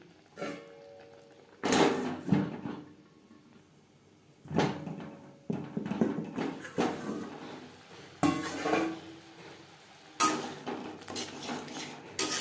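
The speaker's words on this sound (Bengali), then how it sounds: "লো টু মিডিয়াম ফ্লেমে মশলা কষিয়ে নেব" Spices frying on low to medium flame for a capsicum curry, with irregular metal spatula scrapes and clanks against the pan between quieter stretches of soft sizzling, close and moderately loud.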